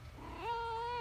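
A shop cat in a woodcarving workshop gives a single rising meow that settles into a sustained tonal call, close and clear over a low background hum.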